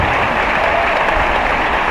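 A church congregation claps hands together in a dense, continuous burst of applause, loud and close, with no voices standing out.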